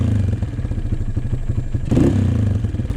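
Honda CRF230 dirt bike engine running rich with the throttle cracked open, a close, loud, choppy idle rhythm that swells into a short burst of revs near the end.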